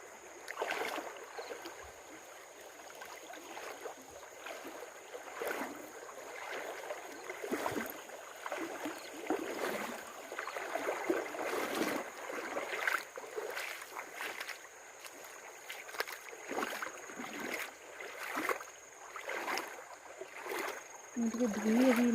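Water flowing steadily outdoors with broad rushing hiss and wind across the whole stretch, while people talk intermittently nearby.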